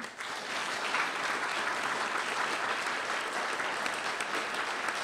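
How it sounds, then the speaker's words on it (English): A luncheon audience at the National Press Club applauds a speaker with steady, dense clapping that holds evenly throughout, no voices over it. "How about a round of applause for our speaker?"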